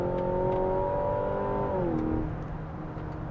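Four-cylinder engine of a 2025 Mazda CX-70 accelerating in normal drive mode, a steady loud interior drone with rising harmonics that dip near the end as the revs settle.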